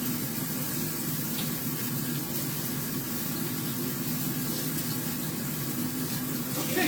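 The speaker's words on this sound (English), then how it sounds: "let's wash this off" Cold tap water runs steadily over lobster being rinsed in a kitchen sink, a constant close splashing rush with no talking.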